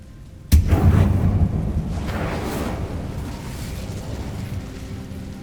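An Incendio fire spell is cast in a Harry Potter video game: a sudden sharp burst opens into a roaring, whooshing flare of flame that slowly fades into a lingering crackling rumble.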